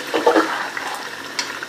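Masala-tinged water is poured into a pot of cooking chicken korma, making a short, close splashing and gurgling pour with no talking.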